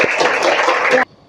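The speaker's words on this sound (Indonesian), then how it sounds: "Tepuk tangan." Applause from a classroom of students, a dense burst of clapping lasting about a second that cuts off sharply, with a quick hand sound at the very start.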